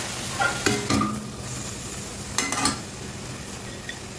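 Vegetables lightly frying in a pan for spinach (palak) idli, a soft steady sizzle with a few sharp stirring scrapes and clinks of a utensil against the pan, close by and without talk.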